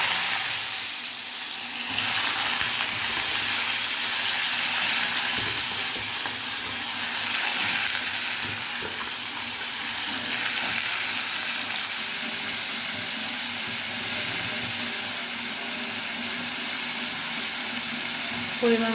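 Potatoes going into hot oil spiced with black cumin (kalo jire) for a Bengali chickpea mixture, giving a steady broadband sizzle that holds throughout at moderate loudness, with no speech over it.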